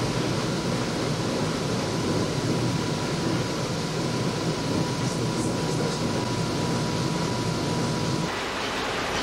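Sydney light rail tram, a modern low-floor vehicle, running along the line with a continuous loud rolling rumble and hiss, a steady tonal whine on top, easing slightly near the end.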